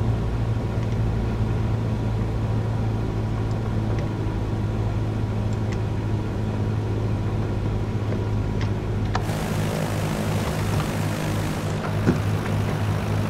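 A propeller aircraft comes in to land at Brockton Airport with flaps down in Microsoft Flight Simulator, a steady engine drone with a constant low hum, shifting brighter and rougher near the end.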